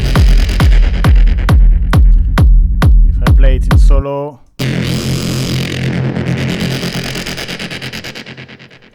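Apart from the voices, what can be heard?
techno synth horn with heavy modulation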